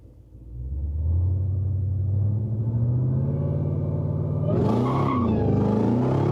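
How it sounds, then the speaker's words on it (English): A Chrysler SRT with a HEMI V8 accelerates hard in second gear, its deep engine note rising steadily and loud, with a rougher, brighter roar and possible tyre noise building near the end. "Give it some second gear."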